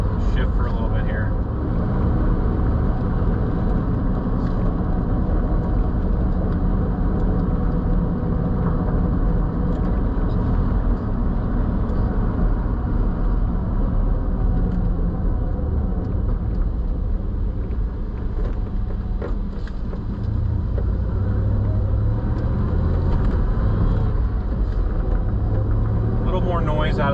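A Chevrolet Silverado with a short throw shifter drives on, its engine rumbling steadily and loudly for the whole stretch, with slight dips in level as the gears change.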